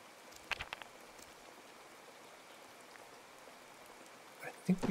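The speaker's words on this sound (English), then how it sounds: "think we just drink some water while we have the kind of infinite rain." Steady soft rain pattering in the survival game Card Survival: Tropical Island, a faint continuous wash with a few sharper drop-like ticks and a brief louder burst near the end.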